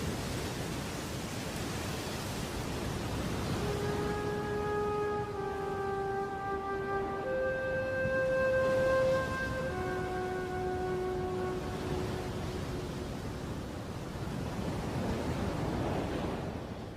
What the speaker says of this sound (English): Finally, the storm recedes.